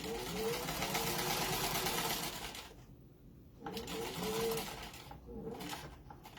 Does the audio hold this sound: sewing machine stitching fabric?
yes